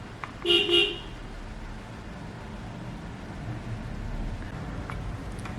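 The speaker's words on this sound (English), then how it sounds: "I'm so sorry about the traffic." A car horn honks twice in short succession in street traffic, loud and fairly near, then the steady broadband hum of passing vehicles continues alone.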